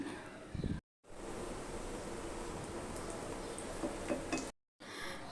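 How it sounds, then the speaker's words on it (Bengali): Bread slices frying in a pan give a steady, even sizzle that runs on with no talk, broken by two brief gaps. "পাউরুটি ব্রেড ভেজে নিচ্ছি"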